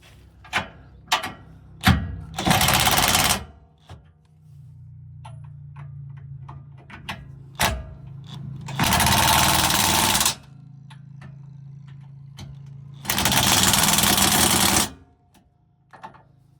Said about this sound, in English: So now let's crank down on these 3 bolts and this shit should be done.